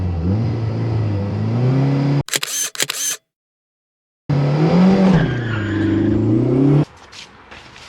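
A Toyota Starlet KP61 engine revs hard and strains through the gears with tire squeal while racing a Ford Ranger, loud and close, broken by a few sharp clattering bursts and a brief silence before the engine resumes.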